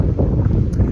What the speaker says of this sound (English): Wind's picked up a lot.